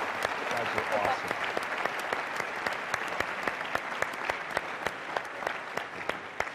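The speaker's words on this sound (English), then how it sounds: "One more round of applause, please, for Secretary of Defense" A crowd of Air Force Academy cadets applauds the Secretary of Defense, sustained dense clapping in a large room with sharper individual claps popping through, steady throughout.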